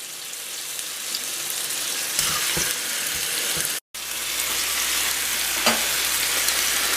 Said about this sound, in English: This is going to cook at different times because we've got the thin parts of the breast and the thick parts of the breast.